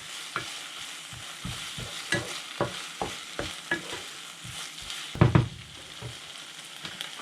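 Allspice, pepper and other ingredients for Kashubian-style herring are stirred together, a series of distinct wet scraping strokes in a loose rhythm, with a louder cluster of clatters near the end.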